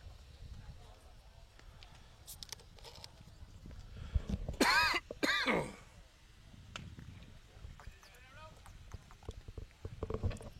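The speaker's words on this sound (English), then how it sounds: "I'm going to deal with a bit of a cough all of a sudden." A man coughs in a short, harsh burst of a few hacks near the middle, set against the low background murmur of a baseball play-by-play broadcast.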